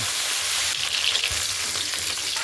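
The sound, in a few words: frying katla fish head in mustard oil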